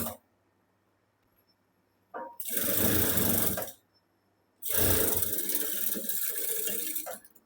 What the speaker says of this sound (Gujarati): અહીંયા અડધા ઇંચના માર્જિનમાં આપણે સિલાઈ લગાડશું